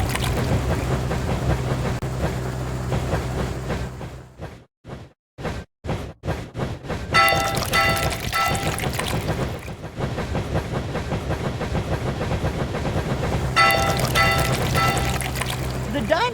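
Racing trains in a dinosaur-themed rail rally video game rumble and clatter along the track, a steady mechanical roar broken by a brief rhythmic stutter of gaps, then swelling again under game music and an upbeat narrator's voice.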